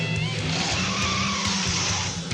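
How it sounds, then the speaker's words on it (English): Slipknot heavy metal playing as a dense, loud, continuous wall of distorted guitars and crashing cymbals, with no pauses or voices. "The metal bands they used in the study were Slipknot."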